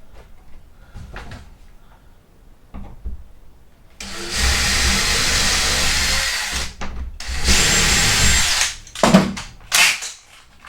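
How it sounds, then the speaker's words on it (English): A power drill runs in two sustained bursts, drilling pilot holes in wood for a door handle, whining steadily for a few seconds each, with quieter handling noises before and between. "I could drill both pilot holes at the same time"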